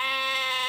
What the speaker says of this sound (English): I'm gonna go play with the goat.